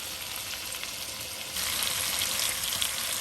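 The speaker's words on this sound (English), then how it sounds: "Don't forget to flip your steaks a couple times throughout this pan searing process." Steaks pan-searing in a skillet give off a dense, steady sizzle of hot fat, close and loud, swelling noticeably brighter partway through and carrying on with no voices.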